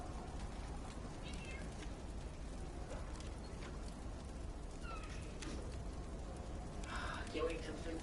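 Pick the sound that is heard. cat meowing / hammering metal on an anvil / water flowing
cat meowing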